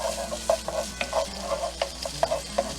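Bacon rendering in a pan is stirred with a utensil, giving a series of irregular scraping taps over a low, steady sizzle, close and fairly clear.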